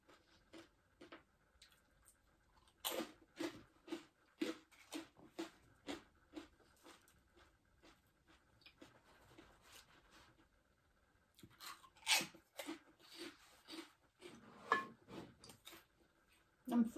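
Someone chews crunchy pork rinds during a meal with som tam. Up close and fairly quiet, the crisp crunches come in irregular bursts with pauses between them.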